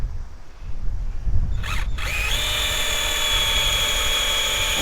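A Harbor Freight power drill with a titanium bit spins up after a brief whir and then runs loud and steady, its high motor whine sustained close by.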